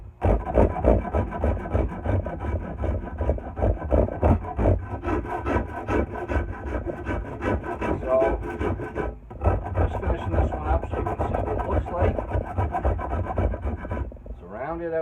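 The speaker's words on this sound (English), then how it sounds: "So I start up high and then I gouge it right down into the handle" A hand gouge carving down into a wooden tool handle, making steady, close rasping scrapes in repeated strokes with brief pauses.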